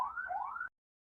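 An emergency vehicle siren wails from outside in two rising sweeps, fairly clear and steady, then cuts off abruptly into silence.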